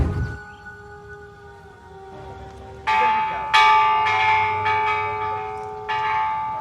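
A bell rings several times at an atomic bomb memorial site, each loud strike followed by a long ringing decay that overlaps the next, with no voices.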